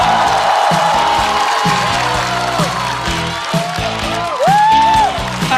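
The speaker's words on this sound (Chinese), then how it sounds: "掌声欢迎毛豆" A stand-up comedy audience applauds and cheers, with a broad, sustained wash of clapping and crowd noise, loud and close, layered with musical tones and rising whoops.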